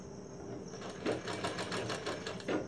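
Sewing machine stitching a blouse, a quiet, fast mechanical whirring with rapid regular needle pulses that picks up after a short pause.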